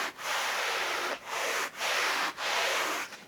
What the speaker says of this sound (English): if I rub my hand across them, I'm sure that sound's going to drive somebody crazy